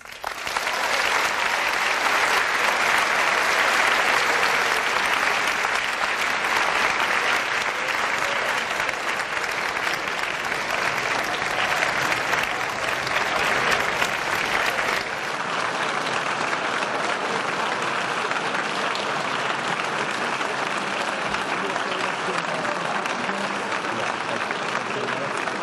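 Sustained audience applause in a high school gathering after a speech, thick continuous clapping that fills the room for about fifteen seconds, then carries on slightly thinner and steady to the end.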